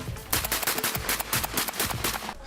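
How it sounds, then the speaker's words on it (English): Rapid, loud bursts of gunfire from the first-person shooter Trepang2 as enemies are shot in mid-air, with close, repeated automatic volleys packed into a couple of seconds. "you can shoot them mid-flight as if you're playing a game of skeet shooting"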